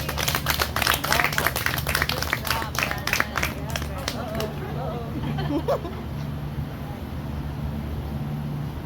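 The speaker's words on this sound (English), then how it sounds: "Round of applause." Round of applause from a group of people at a fire extinguisher training session, a burst of clapping lasting several seconds that fades out, with crowd murmur and voices underneath.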